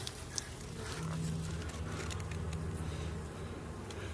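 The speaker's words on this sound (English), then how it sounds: "This is where the guard bees hang out," A dense, steady buzzing of many honey bees close by at a hive entrance landing board, continuous and even, with a faint tap near the start.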